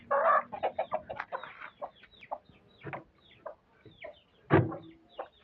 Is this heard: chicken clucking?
yes